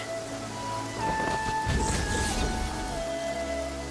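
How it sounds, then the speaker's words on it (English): Steady rain hisses throughout in Genshin Impact, with a low rumble swelling in the middle and soft tonal music notes drifting over it. "It's raining again."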